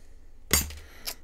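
Desoldering braid is snipped at the tip with cutters, giving a sharp close snip followed by a second smaller click.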